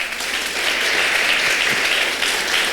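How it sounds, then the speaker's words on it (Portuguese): A church congregation applauds together in a continuous, even roar of clapping that stays level from start to finish. "Eu queria que você aplaudisse o Senhor por isso"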